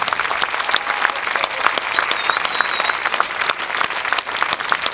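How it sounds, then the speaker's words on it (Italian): Concert audience in a basilica applauding Italian jazz musicians, sustained dense clapping from a large crowd filling the space evenly, loud and steady throughout. "possiamo fare un applauso per tutti i musicisti che hanno suonato?"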